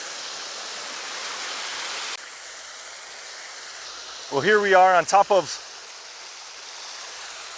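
A creek flows steadily above White Oak Falls as a broad, even rush of water that continues throughout, with someone talking briefly over it midway.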